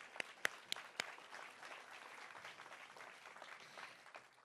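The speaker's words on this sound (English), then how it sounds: "So round of applause for everyone who's helped make this happen." A speaker-series audience claps, opening with a few sharp separate claps before settling into a steady, moderate patter of applause at middle distance.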